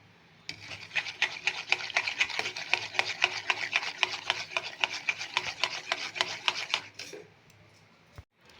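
A spoon stirs powdered milk into thickened milk in a pan for kheer, making a steady run of quick, close scraping strokes for about seven seconds. No one speaks.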